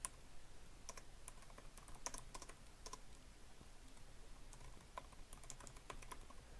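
A computer keyboard being typed on for a Minecraft command, a quiet run of light, irregular key clicks in a steady patter with no voices.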